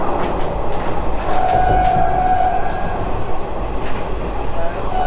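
A local train on the Delhi-to-Gurugram line runs at full speed past Laxmi Nagar, with a loud, steady rumble of wheels on rails, faint clicks and a thin metallic squeal drifting in and out, and no talking.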